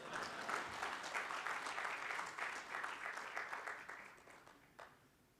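A conference audience at the Rwanda Internet Governance Forum claps steadily for about five seconds, a dense even wash of hands that tapers off quietly at the close, with no one speaking over it.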